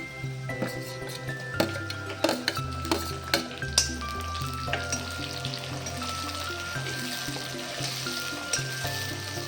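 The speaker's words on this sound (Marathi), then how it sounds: "कांद्याला असा सोनेरी रंग येईपर्यंत परतून घ्यायचा आहे" Onions browning and then tomatoes sautéing in a pan for a Maharashtrian crisp potato bhaji, with a steady close sizzle of frying broken by repeated scraping stirs, and no talk.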